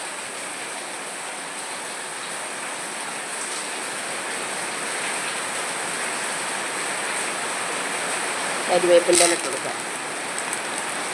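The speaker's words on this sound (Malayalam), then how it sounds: "പിന്നെ എന്തോരു മഴയാണ്" Heavy rain pours steadily outside a home kitchen as a dense, constant hiss, with someone talking over it near the end while cooking.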